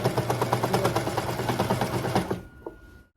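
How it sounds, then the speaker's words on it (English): Sewing machine stitching fabric for a Velma costume, a close, rapid, even mechanical chatter of needle strokes that runs for a couple of seconds, then stops abruptly into quiet. "I don't want my machine needle to sew over the pin and possibly break the needle."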